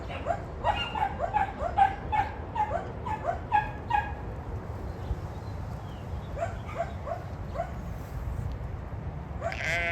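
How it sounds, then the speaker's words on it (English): A farm dog, heavily pregnant, gives a run of short whimpering, yelping calls close by, repeated rhythmically at first and then fading into softer scattered sounds, with sheep and goats around and light ambient noise. "And we have a very pregnant dog here."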